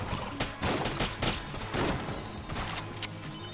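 In Enter the Gungeon, the shot grub gun fires in a busy, steady stream of loud shots and impacts, layered with game effects and no pauses.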